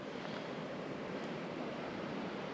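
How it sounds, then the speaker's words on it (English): A waterfall in Surprise Canyon in the Panamint Mountains, Death Valley, gives a steady, broad rushing roar that holds constant and moderately loud without pause or voices. "and the first thing we see is this waterfall."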